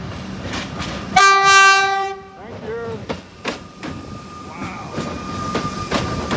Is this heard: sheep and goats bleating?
no